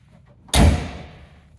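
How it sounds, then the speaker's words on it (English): A 1500 Limited Edition MG Midget car door shuts once with a single close, solid thud followed by a short rattling decay, otherwise quiet. "Door shut well."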